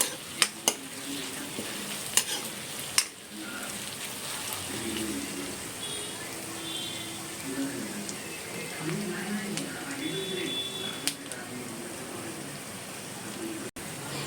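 Chicken and onion frying in a pan for chicken masala, with a steady sizzle throughout and a utensil stirring and scraping the pan now and then, plus a few sharp clinks near the start and end.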